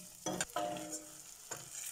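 Onions fry in a pan while being stirred, short scraping strokes over a quiet background sizzle, close and faint.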